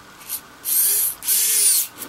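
A compact WOWSTICK 1P+ electric screwdriver drives a screw: a brief blip, then two steady high whirring runs of about half a second each, close and clear, with a short pause between them and no talking.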